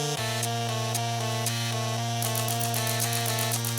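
Typewriter keys struck by a computer-controlled rig, a steady run of sharp mechanical clacks repeating at an even pace over a constant droning hum, with no talking.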